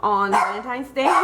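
A dog barks a few times in a home kitchen while a woman cooks pasta, sharp close yelps overlapping her talking.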